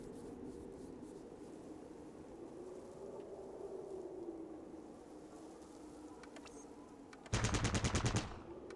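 A short automatic burst of video game gunfire, loud and rapid, near the end of a quiet stretch of low game ambience.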